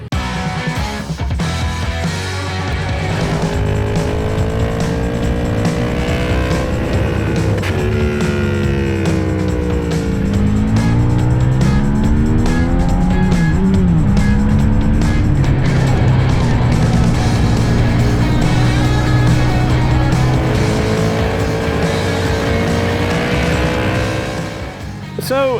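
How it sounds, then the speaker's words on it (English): A 2024 Buell Hammerhead 1190 motorcycle at speed on a race track, its engine droning loud and steady with pitch rising and falling through gear changes, wind roar throughout. "It's just awesome to have such a powerful motorcycle that is still easily rideable."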